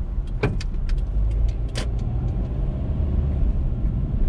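A car drives through the casino streets of Macau's Cotai Strip and Taipa, with a steady low road rumble inside the cabin broken by a few faint clicks and ticks.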